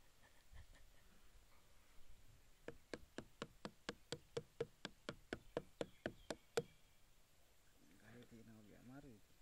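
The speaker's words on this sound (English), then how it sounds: "how he's going to tap the flower and also how he's going to shave the flower to collect that nectar" A coconut flower being tapped to draw nectar for arrack, a steady run of about seventeen crisp, evenly spaced knocks, close and fairly quiet, followed by someone speaking.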